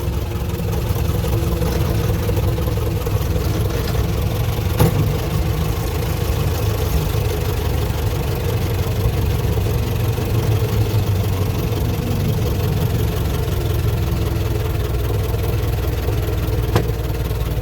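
A Ford Model T engine with a Ruckstell axle running steadily, a close, rough mid-pitched idle with a constant chugging hum, joined by a couple of faint clicks.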